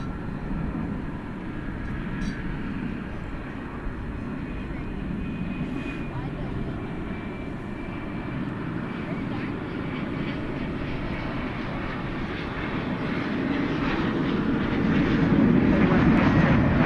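A jet airliner takes off at night from runway 18 left at DFW Airport, a steady broad engine roar that swells louder toward the end, heard from a plane-spotting spot nearby.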